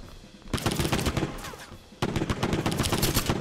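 An M16 fires in the video game Hentai vs. Evil in two loud rapid bursts, split by a brief lull.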